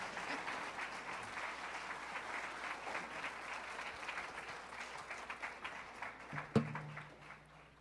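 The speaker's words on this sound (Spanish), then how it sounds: "Denle un aplauso a mi hermano porque me protege bien." A church congregation claps steadily through a sustained round of applause at moderate distance, with a brief louder thump near the end as it fades out.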